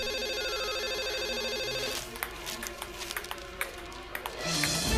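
An electronic phone ringtone trills steadily for a couple of seconds, then gives way to scattered clicks and clatter.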